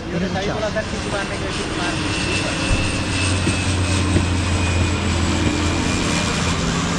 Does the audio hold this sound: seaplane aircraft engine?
yes